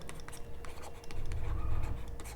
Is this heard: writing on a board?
yes